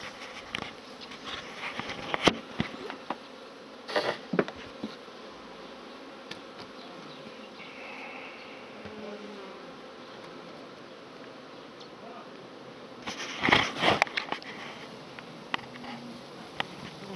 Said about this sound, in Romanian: Ia uitați zumzăit aici. E o plăcere să ne uităm la un stup.